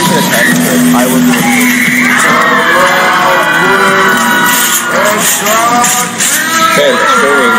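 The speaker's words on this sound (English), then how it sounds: "the thing was just people screaming" A wrestling event crowd screams and whoops loudly and continuously, a dense, steady roar of many voices with rising shrieks throughout.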